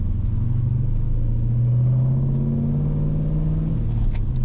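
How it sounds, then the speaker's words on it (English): Car engine fitted with a Vortech supercharger, heard from inside with the windows up, rumbles steadily as the revs rise and fall in a smooth sweep, loud and close with no talk. "When the windows are up, you can really hear the supercharger."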